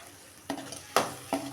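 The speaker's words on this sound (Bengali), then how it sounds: "নাড়াচাড়া করে দিচ্ছি যাতে নিচে না লেগে যায়।" Pabda fish in mustard paste being stirred in a pan over low heat: three distinct scraping strokes of a spatula against the pan, the middle one loudest, over a faint low sizzle.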